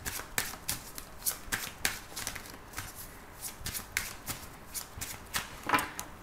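Lenormand oracle cards being shuffled for a card reading, a steady run of close, crisp riffling snaps and flutters repeating in irregular bursts throughout, with no talking.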